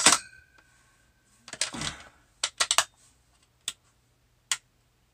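The bolt of a 7mm Remington Magnum rifle is worked nearby, giving a sharp metallic clack and a sliding rattle, then several crisp clicks spaced through quiet pauses.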